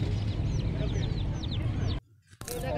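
Aseel chickens clucking at the Quetta Sabzi Mandi poultry market, several short calls close by over a dense market hubbub, cut off briefly near the end.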